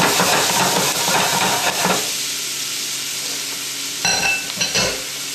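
Snap peas hit a hot pan and sizzle loudly and close, a dense hiss that eases after two seconds into a steadier fry with a few scraping stirs.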